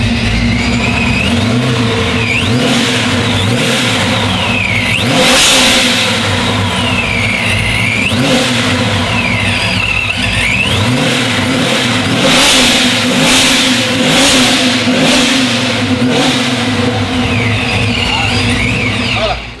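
A Procharged 6.2 engine in a C10 Squarebody truck revs repeatedly, rising and falling in loud nearby surges with a supercharger whine over the exhaust note, while people talk over it.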